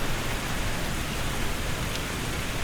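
Steady rain falls in Microsoft Flight Simulator 2020 at Plant City airport (KPCM), a dense, even hiss of drops on surfaces with no gaps, fairly loud and alone with no talking.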